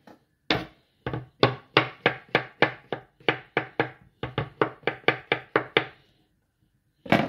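Closed cup mushrooms chopped with a knife on a board, a brisk run of about twenty sharp, evenly spaced chops, close and crisp, then a pause and one last chop.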